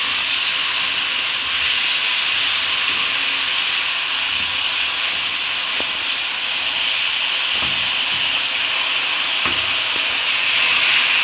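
Ginger garlic paste fries in hot oil for butter chicken, a loud, continuous close sizzle with occasional spoon knocks and scrapes against the pan.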